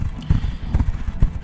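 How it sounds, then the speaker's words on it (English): Horses clip-clop outside, a loud, dense patter of hooves in quick irregular rhythm that runs through the whole moment without any talking. "Horses and chinking armor or clinking armor are outside,"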